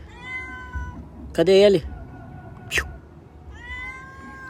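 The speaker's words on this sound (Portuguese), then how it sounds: "Olha, o gato não quer comer." A stray street cat meows several times with clear drawn-out tonal calls, close by, while a person speaks Portuguese in between.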